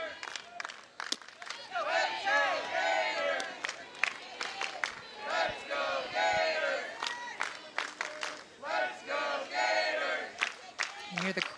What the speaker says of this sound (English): Crowd cheering for the Gators as they have bases loaded